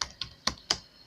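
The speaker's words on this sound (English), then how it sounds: "So I'm going to start typing, probably type the same thing that I typed in the demo." Four distinct keystrokes on a computer keyboard, evenly spaced and fairly close, crisp clicky taps with no voices over them.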